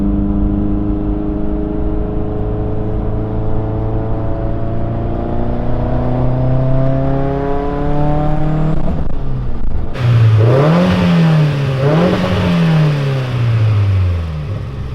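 A car engine fitted with a T51R turbo mod revs from idle, its steady, loud drone rising in pitch over many seconds, then swelling and falling through a couple of rapid throttle blips near the end.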